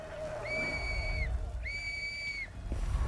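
Two thin whistles in Sniper Elite 5, each a sustained tone rising and then dropping at its end, repeated after a short gap over a steady low ambient rumble.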